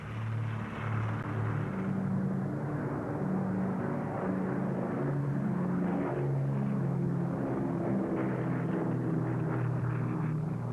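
A Brewster Buffalo propeller fighter plane drones overhead, a steady throbbing engine hum with layered harmonic tones that holds at an even, fairly loud level throughout without pause.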